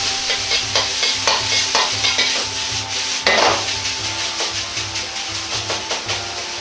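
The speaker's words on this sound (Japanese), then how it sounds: "卵の真ん中にご飯を入れ、お玉を使ってほぐしながら炒めます。" Rice and egg are stir-fried in a wok with a ladle for fried rice, a loud continuous sizzle under rhythmic, repeated scraping and tossing strokes, with no voices.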